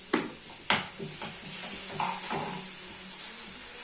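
Onions with salt frying in a pan, a gentle sizzle punctuated by a couple of sharp utensil clinks against the pan early on, then softer stirring, no talking.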